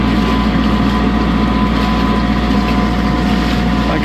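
A motorboat engine drones loud and steady as the boat speeds over open water, a constant broadband roar with wind buffeting the microphone and no voices.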